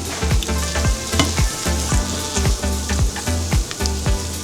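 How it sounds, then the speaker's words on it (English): Burrito filling sizzles steadily in a hot pan while a utensil stirs through it in repeated scraping strokes, loud and close with no talking. "Now let me give it a quick stir."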